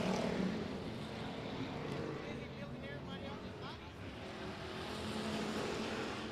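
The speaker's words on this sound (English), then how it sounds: "10 of Scott Jerkins from Lavernia, Texas, going down the backstretch, headed into turn 3" Race cars at I-37 Speedway in Texas roar down the backstretch toward turn 3, a steady, continuous engine drone at moderate distance that swells slightly at the end, with a voice talking over it.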